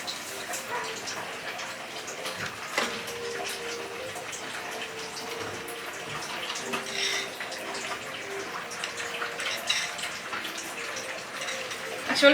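A small amount of water is poured in to dissolve caldereta mix while cooking chicken caldereta, giving a continuous soft running, splashing wash that stays fairly quiet and steady throughout.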